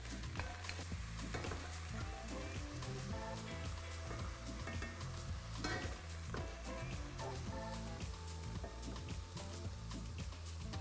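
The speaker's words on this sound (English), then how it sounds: "I'm gonna really quickly just saute these aubergines just to get them nice and brown on the outside" Aubergines sautéing with a sprinkle of salt in a pan for a vegan stew, a steady close sizzle broken by repeated stirring scrapes and light clinks of a utensil, with no talking.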